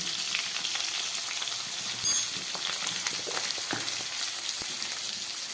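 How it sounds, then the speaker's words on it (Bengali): Potatoes sautéing in a pan with tomato, cumin and coriander give a loud, continuous sizzle with light stirring scrapes and one brief clatter. "আলুটাকেও খুব ভালোভাবে আমি কষিয়ে নিচ্ছি"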